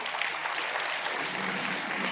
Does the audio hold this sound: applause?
yes